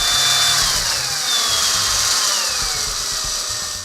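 A power tool whirs loudly and continuously while bolting down the rear link mounts on the axle of an R1 rock buggy build, its pitch wavering slightly as it works, with no talk.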